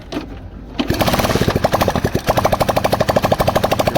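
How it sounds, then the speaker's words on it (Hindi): A Honda CD Deluxe motorcycle being serviced after piston ring failure is kicked over and fires up, settling into a loud, close, rapid single-cylinder putter with an even pulsing rhythm. "अब करते हैं बाइक को स्टार्ट।"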